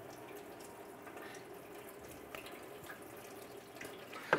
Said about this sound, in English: Here comes the coolant. I'm going to slowly let that drain out into our catch can.